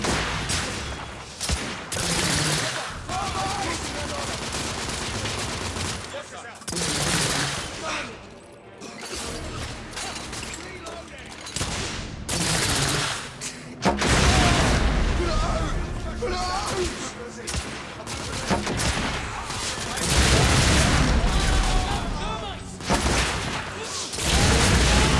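Gunfire in The Order: 1886 on PS5: rapid bursts and volleys of shots crackle in dense clusters with brief pauses, mixed with in-game voices and battle noise.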